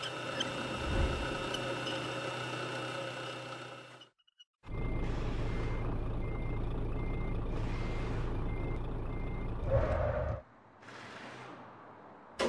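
A car transporter truck backs up with a steady beeping reverse alarm over its engine rumble. There is a short break, then the beeping resumes along with faint squeaks.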